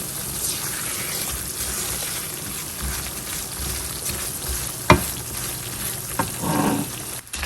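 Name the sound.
roasting semolina (sooji) in a pan for halwa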